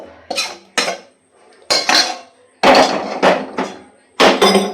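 A metal pot lifted off a gas stove with a run of loud, close clatters and clanks of pot and utensils in quick bursts, a short lull partway through.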